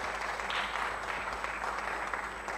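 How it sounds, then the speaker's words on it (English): Audience applause at a symposium honouring Mwalimu Julius Nyerere, a steady dense clapping that fills the whole stretch at moderate level with no voices over it. "Another round of applause."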